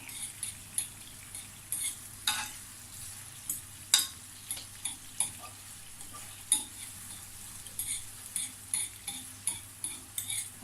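Onions fry in a pan while a utensil stirs them, with a low continuous sizzle and regular sharp clinks and scrapes against the pan every second or so.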